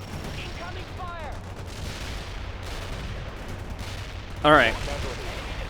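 Battle sounds from the video game World in Conflict: a continuous rumble of gunfire and distant artillery with scattered sharp reports, under brief radio-style speech and a louder burst near the end.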